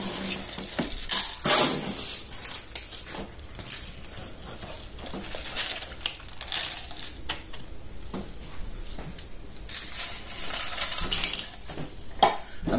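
A chunky potting stick is worked into gritty bonsai mix around a Chinese juniper in its pot, giving repeated scratchy, crunchy scrapes and taps at close range with short pauses between them.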